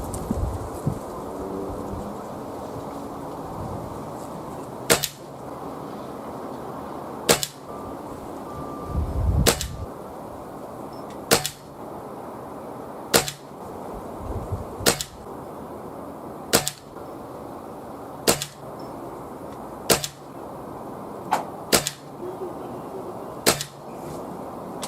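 Reximex Regime and Retay T20 air rifles firing pellets outdoors, eleven or so sharp cracks spaced every couple of seconds, each a short clean snap over a steady low background hiss of wind.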